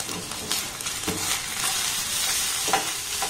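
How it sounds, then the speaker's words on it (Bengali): An egg and vegetable filling for egg paratha fries in a pan with a steady, close sizzle, while repeated scraping stirs mix it through. "ডিমটা দেওয়ার পর আবার এটাকে আমি খুব ভালোভাবে সমস্ত সবজির সাথে কিন্তু নাড়াচাড়া করে এইভাবে একটু ভেজে নেব"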